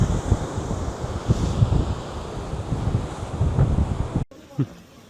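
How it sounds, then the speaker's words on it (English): Wind and waves on the Atlantic Ocean coast of Morocco form a steady, rough rumble of surf and gusts. The sound cuts off near the end, leaving a faint quieter background. "there it is, the Atlantic Ocean"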